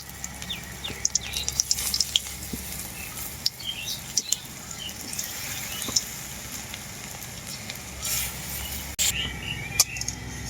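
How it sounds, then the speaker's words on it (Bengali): Flattened poppy seed fritters frying in hot oil give a continuous crackling sizzle with scattered sharp pops, close and moderately quiet, with no talking. "পোস্তর বড়াগুলো এইভাবে চ্যাপটা চ্যাপটা করে ভেজে নেব আমি"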